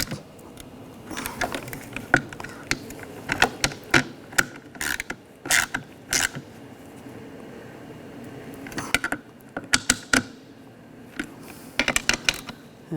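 Wrench ratcheting sounds in short, irregular bursts of clicks and metallic clatter as nuts are snugged down on an Audi A4 Quattro rear window regulator, close and clear with pauses between the bursts.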